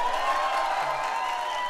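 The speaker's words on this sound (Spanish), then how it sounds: "Un aplauso para Batman." Steady, dense applause and clapping from a live comedy-show crowd, sustained without a break at moderate loudness.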